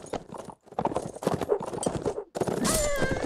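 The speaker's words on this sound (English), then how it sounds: "I need a new horse." Horse hooves clip-clop steadily in a medieval battle video game, loud and close, with a whinny near the end and some game noise around them.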